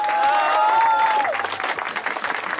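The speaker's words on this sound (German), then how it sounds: "wir warten auf den Applaus, meine Damen und Herren." Applause at a youth ski race award ceremony, crowd clapping underneath a sustained whistle-like tone, then continuing as a dense, moderately close round of clapping.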